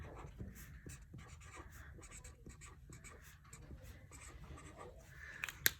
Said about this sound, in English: Pick up our pencil or our marker and write our name.